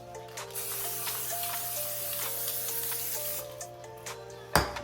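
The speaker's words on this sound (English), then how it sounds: "I'm going to spray the pan so that way it don't stick to the bottom" A steady hiss of cooking spray onto a pan fills the clip over soft clinking tones, ending with a sharp knock.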